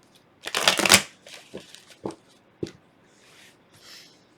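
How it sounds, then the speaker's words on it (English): Tarot cards are shuffled up close, a loud riffling burst followed by several shorter snaps and soft slides, with quiet pauses between them. "Let's give this a good shuffle real quick."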